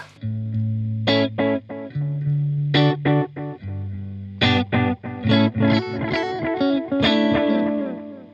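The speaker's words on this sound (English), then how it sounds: "So if I increase the mix control, those delay repeats are going to be louder" An electric guitar plays distorted notes and chords through a Cooltone Echoverb delay pedal with the mix raised, echoing repeats trailing each phrase, loud and close.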